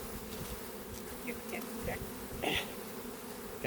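Carniolan honey bees buzzing loudly and continuously during a package installation, a dense close swarm hum with individual bees darting past in brief higher-pitched passes.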